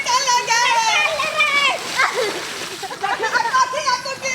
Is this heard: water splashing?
yes